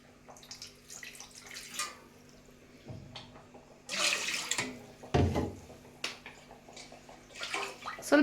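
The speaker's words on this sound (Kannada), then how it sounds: "ಇನ್ನು ಸ್ವಲ್ಪ ನೀರು ಹಾಕ್ತಿದ್ದಾರೆ" Water poured from a jug into simmering Kundapur-style bangude (mackerel) fish curry masala, heard as a couple of brief splashy pours amid kitchen background noise.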